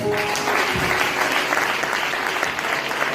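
A church congregation bursts into warm, sustained applause, dense clapping from many hands filling the room for a few seconds without pause.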